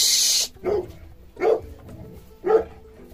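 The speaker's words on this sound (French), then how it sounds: "quand vous entendez aboyer, il n'y a rien de grave" After a brief hiss, a dog lets out three separate barks spaced about a second apart, loud and close, in a quiet room.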